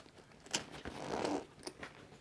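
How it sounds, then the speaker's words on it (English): A Pioneer Panda Pack travel bag is zipped shut, a short close and faint zipper run with a few quick rasping pulls and soft fabric handling. "you can see how easily and awesomely these things zipper."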